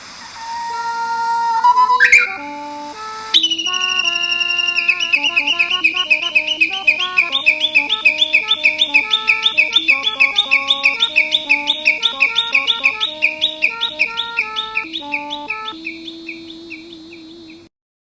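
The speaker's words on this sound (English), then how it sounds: "Next, Japanese bush warbler." A Japanese bush warbler sings a short clear whistle that rises into a quick flourish, followed by a long run of rapid, bright electronic tones stepping through a melody.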